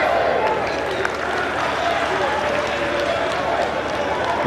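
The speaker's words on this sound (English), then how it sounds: "The fans applauded that effort." Football fans in a stadium crowd applaud and cheer at a women's match, a steady, broad wash of distant clapping and crowd noise with a commentator talking over it.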